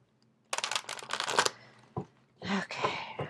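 Tarot cards being shuffled by hand, close up, in several quick riffling bursts separated by short pauses, with a small tap in between.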